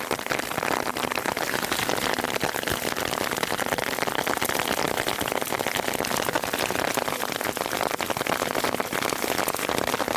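Heavy rain pours down steadily on a solo bikepacking trip along the BC Trail, a dense, unbroken hiss of drops close by that lasts the whole stretch with no voices.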